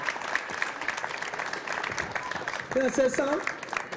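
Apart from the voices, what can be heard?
applause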